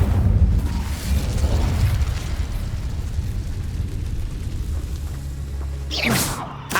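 An Incendio fire spell in Hogwarts Legacy goes off as a booming, crackling burst, followed by a rumbling tail and a sharp whooshing flare near the end.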